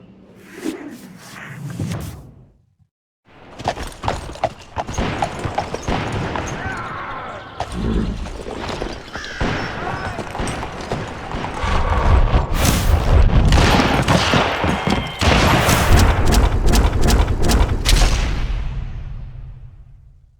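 Horses ride in amid gunfire in the Call of Juarez: Gunslinger video game: after a short gap, loud booms, rapid volleys and whooshes build into a dense, continuous barrage of shots and impacts lasting most of the stretch.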